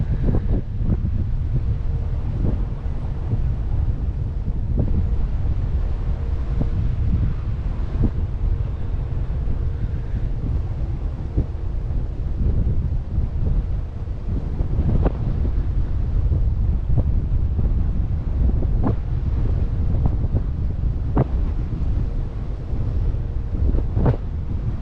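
Steady wind buffets the microphone on the Norfolk Broads in September, a continuous low rumble with gusty surges and faint water lapping, loud throughout with no talk.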